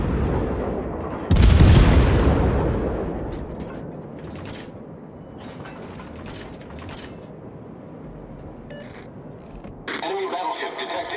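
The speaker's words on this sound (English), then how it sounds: "Concentrate fire on the enemy warship." Heavy naval gunfire from a warship in World of Warships: one loud, booming broadside blast that rumbles and fades, followed by quieter mechanical and distant firing sounds and a second burst near the end.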